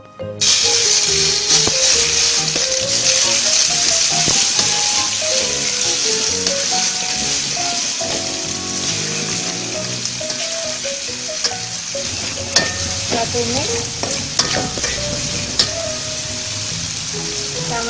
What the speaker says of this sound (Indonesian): Kemudian bumbu ini akan kita tumis.